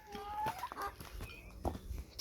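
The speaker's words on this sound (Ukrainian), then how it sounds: "Всіх курей перелякали" Chickens cluck in short, agitated bursts close by, overlapping one another in a quick, uneven flurry.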